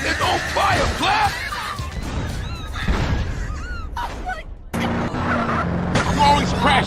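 A car in the video game Grand Theft Auto: The Trilogy Definitive Edition skids and crashes, with loud tyre screeches and engine noise mixed with excited yelling voices, close and busy throughout.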